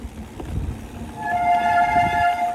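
Bicycle disc brakes contaminated with chain oil let out a loud, steady, high-pitched squeal that begins partway in and holds to the end, over rolling wheel and trail rumble with no talking.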